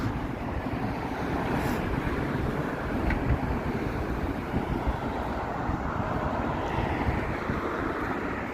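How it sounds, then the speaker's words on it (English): Strong, cold wind buffets an outdoor microphone on a Sunday evening in Toronto, making a loud, steady, low roar with gusty swells that lasts the whole stretch, with no voices. "A strong wind."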